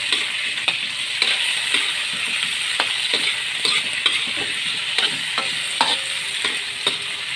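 Tomatoes sauté in a pan for sinigang, a constant crackling sizzle broken by regular sharp clicks of a spoon stirring against the pan, near and alone.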